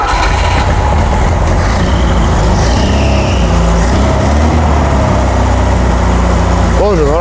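Car engine running at idle after a head gasket test with multiple stacked gaskets, a steady low rumble and vibration filling the clip, with voices talking over it.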